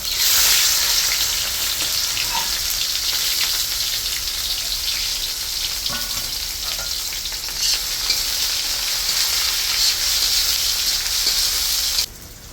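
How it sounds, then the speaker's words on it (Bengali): Chopped onions fry in oil tempered with cumin, with a steady, loud sizzle and crackle, continuous throughout with faint stirring clicks, then dropping off abruptly near the end. "এখন কেটে ধুয়ে রাখা কুচানো পেঁয়াজ দিয়ে দিই"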